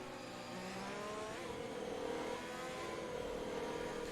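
Race cars in a sim racing event in Austria circulate slowly behind a safety car in light spray, giving a steady, moderate engine drone with gentle revving throughout and no talk.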